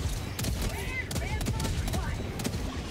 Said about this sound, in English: Artillery's coming.